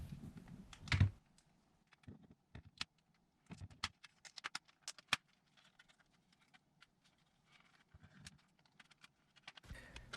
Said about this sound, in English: I removed the back housing using a guitar pick. I put it in between the seams and I just use it as a pry tool.